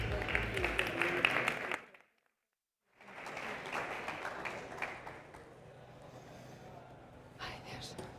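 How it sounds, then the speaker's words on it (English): A conference audience on a South Summit 2023 startup stage applauds loudly for about two seconds. The room then falls briefly silent before a softer, continuing crowd murmur with clapping and voices returns. "Ladies and gentlemen, let's give them a round of applause."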